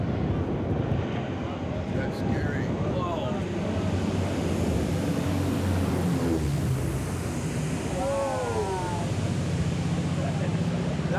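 Airplane flying on a film set, a broad steady roar that holds throughout, heard close and loud under scattered excited voices talking over it.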